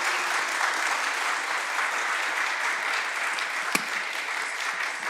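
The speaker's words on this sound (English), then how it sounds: "please give a nice round of applause" Audience at a blockchain hackathon panel in Warsaw applauds, a steady dense wash of clapping from a sizable crowd that holds for several seconds without talk.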